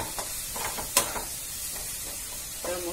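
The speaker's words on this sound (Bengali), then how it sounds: "তার মশলাটা একটু ভালো করে কষিয়ে নিচ্ছি" Masala spices sizzle in a pan for a Sunday chicken kasa, a low steady hiss broken by a few scraping stirs and one sharp clink, heard close with no talking.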